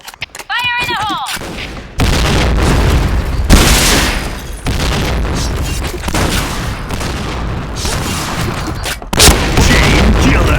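A grenade blast in a shooter video game: a sudden loud boom at about two seconds, then rolling gunfire and further heavy booms that fill the rest of the clip with dense, close combat noise.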